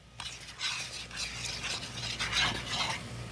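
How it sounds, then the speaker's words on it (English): Milk is whisked into a hard anodized skillet, giving a steady scraping, swishing stir that repeats in quick strokes over a faint low hum, with no talk. "You want to put in maybe a cup, then whisk it in"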